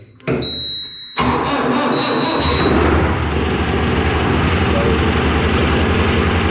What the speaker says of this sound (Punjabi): ਠੰਡ ਪੂਰੀ ਹੈ ਫਿਰ ਵੀ ਸਟਾਰਟ ਹੋ ਜਾਂਦਾ